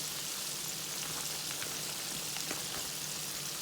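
Ribs frying in a skillet, a quiet steady crackle and sizzle of hot oil with small pops scattered throughout, faint and close, with no one speaking.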